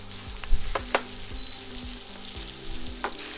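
Fresh spinach frying in oil in a pan, a continuous close sizzle broken by sharp pops, spatters and a few clinks of the utensil.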